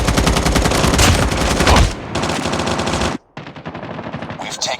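Call of Duty Mobile gunfire: loud, sustained automatic bursts close by, a brief gap, then more rapid shots with a quieter tail.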